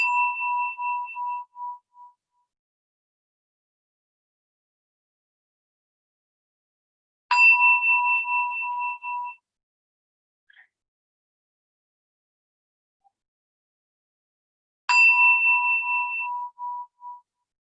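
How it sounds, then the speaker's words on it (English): A meditation bell struck three times to close a mindfulness practice session, each ring a clear tone with a bright strike, sustaining and fading over a couple of seconds, separated by long silences. "letting the sound of the bell signal the end of this practice"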